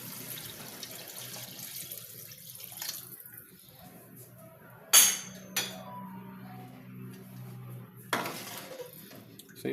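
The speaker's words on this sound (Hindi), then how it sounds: "इसमें 1 लीटर पानी ऐड कर देंगे।" Water is poured into a pot of chicken and potato curry (aloo shorba) in a quiet kitchen, with a few sharp clinks of metal utensils against the pot.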